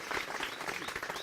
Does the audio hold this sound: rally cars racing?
no